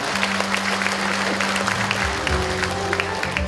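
Audience applause at a community talk concert in Uljin, South Korea, a steady mass of clapping hands that fills the whole stretch evenly, loud and close, with no voices standing out.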